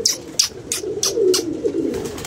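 Pigeons cooing close by in a repeated throaty murmur, with a series of sharp higher clicks or flutters on top, no talking.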